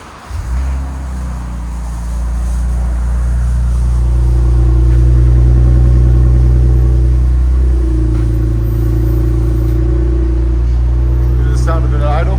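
A 2026 Ram 1500 with the 3.0L Hurricane inline-six and a muffler delete idles and builds into a loud, deep, steady exhaust rumble that holds close and strong, with someone talking briefly at the start.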